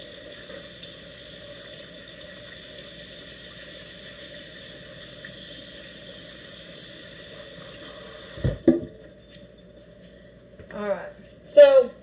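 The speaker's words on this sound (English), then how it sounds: "Let me rinse my hands off," Water running steadily from a kitchen tap while hands are rinsed, a continuous hiss that stops abruptly near the end, followed by brief clattering and a voice speaking.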